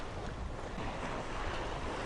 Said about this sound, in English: listen to these waves crashing